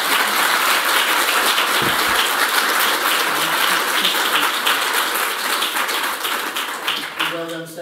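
Applause from a conference audience after a short paper presentation, a dense sustained clapping that fills the room at steady loudness and thins slightly near the end.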